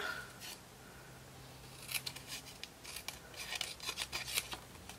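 Scissors snipping through paper to cut out a letter shape on an alphabet punch board, a run of quick crisp snips that grows busier toward the end, close and fairly quiet with no talking.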